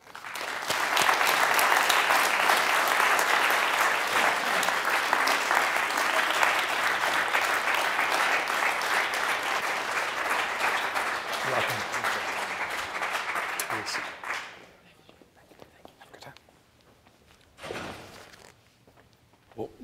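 A lecture audience breaks into sustained, dense applause welcoming two speakers onto a stage. The clapping fades out after about fourteen seconds, leaving quiet room noise, a few footsteps and a brief rustle.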